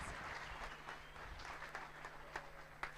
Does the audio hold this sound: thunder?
no